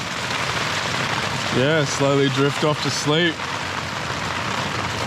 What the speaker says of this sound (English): I'm just gonna lie here listening to the sound of the rain